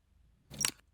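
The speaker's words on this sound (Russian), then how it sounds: "Это опять же фотоаппарат." Camera shutter click used as a UI window-opening sound effect, a single short crisp mechanical snap after near silence, bright and isolated.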